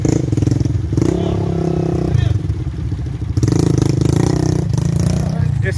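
Motorcycle on an off-road trail pushing through water, its engine loud and close with a throbbing low drone that rises and falls in surges as the rider revs, with people talking over it.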